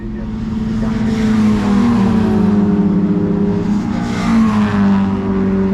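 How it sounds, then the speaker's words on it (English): An MGB sports car idles close by with a throaty, steady engine note, revving slightly and holding a low rumble throughout, loud and continuous without speech. "Oh, there's an MGB has pulled up"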